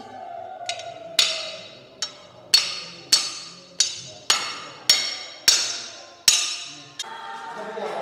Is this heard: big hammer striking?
yes